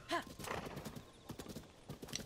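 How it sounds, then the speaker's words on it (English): A horse's hooves clip-clop at a relaxed riding pace in the video game Zelda: Tears of the Kingdom, an even rhythmic patter with a brief whinny at the start. "Listening to the the horse go click clop click clop click clop"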